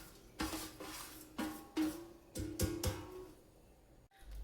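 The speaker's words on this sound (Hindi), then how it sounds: "सूखा हुआ जो नारियल मैंने कद्दूकस किया है उसको भी इसी के अंदर कर देंगे मिक्स" Grated dry coconut stirred into a methi laddu mixture in a bowl, a few clattering scrapes and knocks of a spoon against the vessel in irregular bursts, close and moderately loud, no talking.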